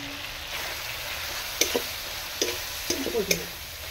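Turmeric and Kashmiri chili spice paste fries quietly in oil under a low, steady background, broken by a handful of short spoon scrapes and stirs toward the end.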